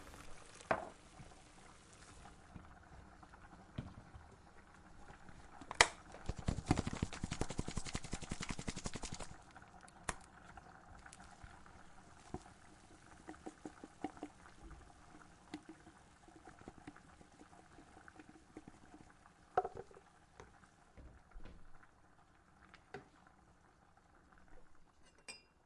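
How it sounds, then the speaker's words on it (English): Mamaliga, or polenta, with sausage cooking in a kitchen: soft bubbling and sizzling under scattered clinks of utensils and cookware, with a louder burst of pouring or frying partway through, all at a low, close level. "What am I cooking? Mamaliga. Or polenta mixed with some sausage."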